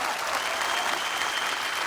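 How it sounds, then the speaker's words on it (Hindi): Studio audience at a Hindi comedy talk show applauding steadily, a dense continuous wash of clapping heard up close with no voices over it. "औरतों ने भी तालियां बजाई, देखिए"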